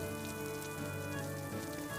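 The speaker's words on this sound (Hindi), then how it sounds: "एक दिन जोर से बारिश शुरू हो जाती है और बारिश रुकने का नाम ही नहीं ले रही थी।" Heavy rain pours down in a steady, dense hiss without letup, with music-like tonal layers mixed in, in a Hindi cartoon story scene.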